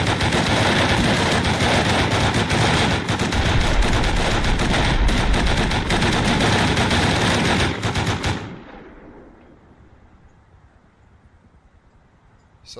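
Rapid, sustained automatic gunfire in Rust blasts loudly and continuously for about eight seconds, then cuts off abruptly, leaving only quiet ambient hiss.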